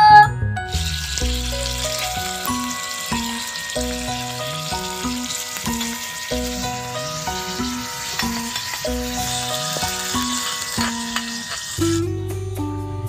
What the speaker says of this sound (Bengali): গুগলিগুলো প্রথমে আমি ভেজে নেব।